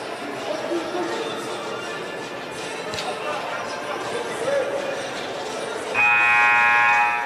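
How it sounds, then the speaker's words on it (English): A loud electronic buzzer blares for over a second at a high school basketball game, Connersville versus Shelbyville, cutting through steady crowd chatter and gym noise that fill the space before it. "Buzzer sounds."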